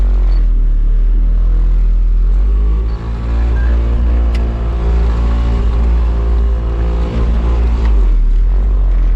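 A K24-swapped Mazda Miata MX-5 on track: a steady, loud engine drone with strong low harmonics that lifts in pitch under throttle, dips briefly near the third second, then pulls again, with no talk over it.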